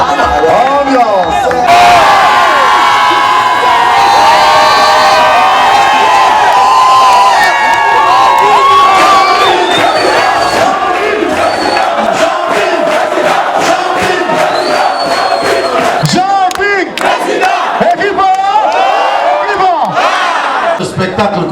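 A large crowd at a 2016 presidential campaign rally in Franceville cheers and shouts loudly and continuously, with whoops and voices rising over a dense roar.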